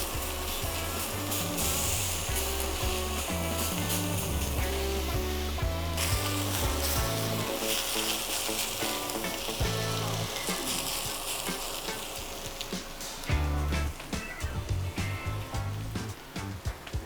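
Pork chops sizzle in a hot pan for a sandwich, a constant frying hiss running beneath loud, rhythmic background music that dominates most of the stretch.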